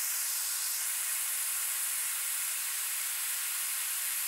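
A brazing torch burns with a steady, close, bright hiss as it reheats a car key joined to another metal. The hiss holds evenly throughout and cuts off at the end.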